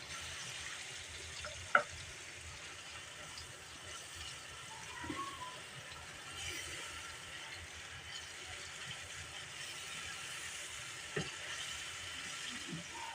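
Tomatoes hit hot oil and spices for matar keema, producing a soft, steady frying hiss at low volume, broken by a couple of brief clicks of a utensil against the pan.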